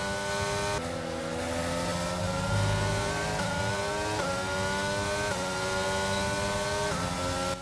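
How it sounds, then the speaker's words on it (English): A Formula 1 race car engine in the F1 22 video game, racing at Emilia Romagna, screams loud and close through repeated rising upshifts while overtaking, steady and continuous with no talking. "We now make a big move on Ricciardo down the outside into turn 1."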